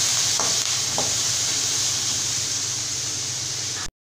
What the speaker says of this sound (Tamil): இப்போ இது எல்லாமே சேர்த்துட்டு நம்ம நல்லா இந்த மாதிரி வதக்கிக்கலாங்க